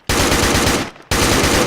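Machine gun from the NiArms mod in a video game, two loud rapid-fire automatic bursts separated by a brief pause, dense and close.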